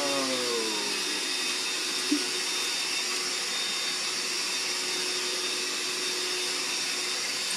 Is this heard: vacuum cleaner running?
yes